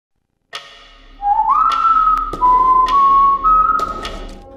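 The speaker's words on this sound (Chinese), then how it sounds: "不时出现的诡谲口哨声" Eerie, wavering whistled melody from the Taiwanese TV crime drama The Copycat, loud and close, with sharp tapping accents scattered through it and no voices.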